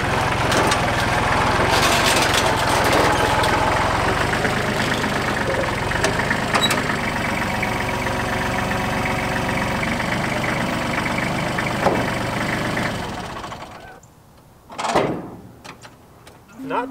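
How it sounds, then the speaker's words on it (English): Tractor engine idling and rumbling as it drives up onto a trailer towed by a lifted truck, loud and steady with wooden creaks and knocks, then dropping away to near quiet with a brief thump near the end. "So we're gonna pull the tractor on here where I explained"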